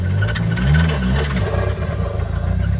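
A 2010 Mazda 3 turbo 2.3 with metal in its oil and a knocking, barely running engine revs hard against a stuck parking brake, giving a loud, steady mid-range rumble with wavering pitch throughout.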